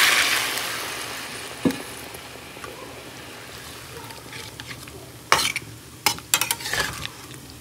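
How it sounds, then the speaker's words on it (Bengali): Cauliflower and potato frying with spices in a pan, a soft continuous sizzle that fades and then gives way to sharp clattering stirs and spoon knocks near the end, close, no speech. "এর মধ্যে আগে থেকে ভেজে রাখা ফুলকপি আর আলুটা দিয়ে দিচ্ছি, দিয়ে কষিয়ে নেব"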